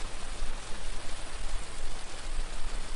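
Banana halwa sizzling as it fries in ghee in a pan, a steady, dense hiss and crackle running unbroken and fairly loud throughout with no talk.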